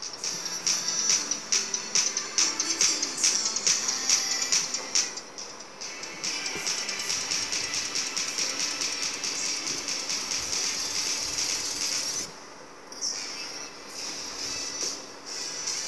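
A song plays at full volume through Boat Basshead earphones, close and tinny, with a steady rhythmic beat and bright, hissy highs. It continues without talk, with brief dips near the middle and end.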